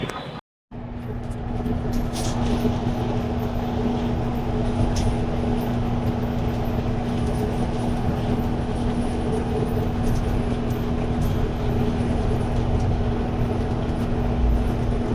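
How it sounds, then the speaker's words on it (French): A Shenzhen metro train heard from inside, a steady loud rumble with a constant low hum running throughout after a brief gap at the start. "le métro chinois est trop bien"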